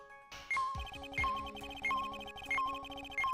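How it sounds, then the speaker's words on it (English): Repeating electronic beeps and tones pulse in a regular rhythm, each burst followed by a short ringing echo, a metal detector signal in Ace Attorney Trials and Tribulations. "That's the sound of the metal detector's signal bouncing off."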